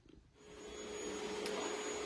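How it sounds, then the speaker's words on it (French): A vacuum cleaner starts up downstairs and settles into a steady, whining drone, somewhat muffled as if from another room. "Ma maman passe l'aspirateur en bas."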